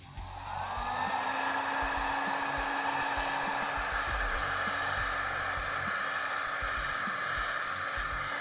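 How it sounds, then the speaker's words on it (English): A heat gun blows steadily as it warms the end of a plastic tube to soften it for a barb connector, a constant loud airy roar with a droning tone that runs unbroken from start to finish with no talk. "we're gonna heat the end of this tube just enough to get the barb connector on there"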